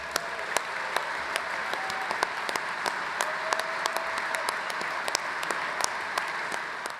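An audience at a firefighters' union convention leadership awards ceremony applauds steadily, dense clapping from a large crowd, no voices over it.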